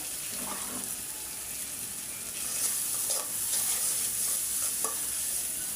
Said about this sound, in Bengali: এখন মশলাটা ভালো করে কষাই নেব যাতে রসুনের গন্ধটা না লাগে